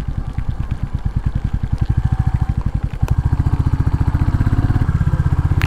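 A motorcycle engine runs steadily nearby in rainy weather at a tourist spot, its rapid low thumping pulse holding through the clip, briefly dipping around the middle before continuing evenly.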